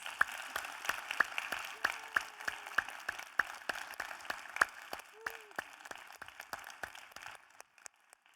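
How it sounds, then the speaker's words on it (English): An audience at a poetry reading applauding, a steady patter of many hands clapping that fades toward the end, with faint voices underneath. "Can we give them a big round of applause?"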